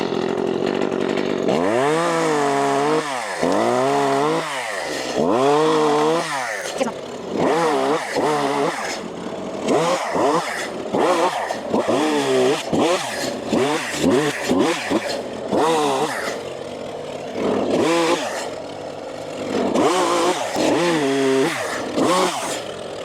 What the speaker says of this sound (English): we need to cut that tree right there down there where it broke off